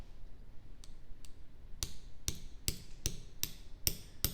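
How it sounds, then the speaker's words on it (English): Sharp metallic hammer taps driving a pin punch into a watch strap, about seven close, distinct strikes in an irregular rhythm after two lighter ticks, with no talking. "And I'm going to use the pin punch and hammer."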